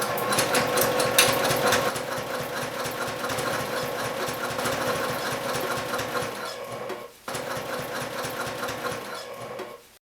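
A sewing machine runs close by, top stitching a bag with a lengthened stitch, a rapid mechanical chatter that pauses briefly near the seventh second, resumes, then stops.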